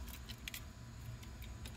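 Keys to a 1993 Cougar jingle lightly in a few short metallic clinks, close by and fairly quiet, with no talking.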